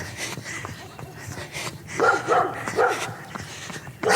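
A dog barks at a runner going past, a short burst of several loud, close barks in uneven rhythm over steady outdoor background noise.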